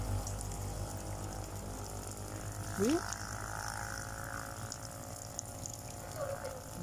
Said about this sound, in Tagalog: Daming tubig sa bundok.